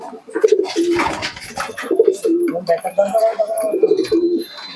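An Andra pigeon coos close by in repeated low, throaty phrases over about five seconds, with a faint flutter of background noise.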